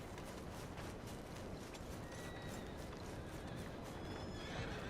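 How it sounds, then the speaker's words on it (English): Horse in Red Dead Redemption 2 whinnies loudly and steadily with hoof clip-clop, over dense continuous game ambience and with no voices. "There's my horse."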